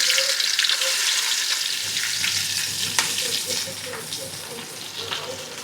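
Onions frying in a pan with cinnamon for Tamil chicken gravy: a loud, close, continuous sizzle with crackling pops and occasional stirring scrapes, no voices.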